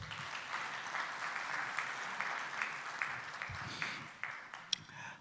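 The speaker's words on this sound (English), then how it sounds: "Please give a round of applause." An audience claps for a visiting chief minister at an investors' meeting during Expo 2020 in Dubai. The applause is steady and sustained, heard from a distance and fairly faint, with a few sharper claps standing out near the end.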